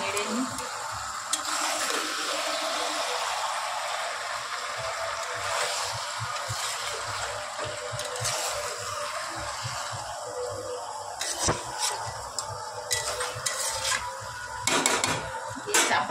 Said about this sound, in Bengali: লবণ দিয়ে দিচ্ছি 2 চামচ। ভালো করে নেড়ে নিই।